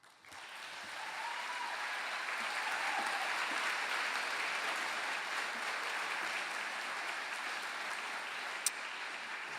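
Sustained applause from an awards ceremony audience honoring the night's recipients, a steady broadband wash of many hands clapping that swells after a quick start and holds evenly throughout, with a faint murmur of voices beneath.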